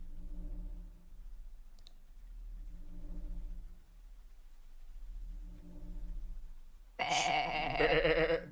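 Sheep in a video game bleat in a brief, loud burst near the end, after a stretch of low, rhythmic ambient rumble with faint clicks.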